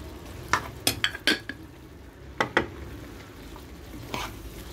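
Spices are stirred into meat and spinach in a pan, with a scattering of sharp utensil scrapes and clinks over a low background of cooking noise.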